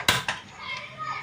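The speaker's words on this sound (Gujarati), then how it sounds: "કઢાઈ મૂકી દઈશું." A kadai wok being set down on a gas stove, two quick close metallic clanks followed by faint kitchen background, with children's voices audible in the room.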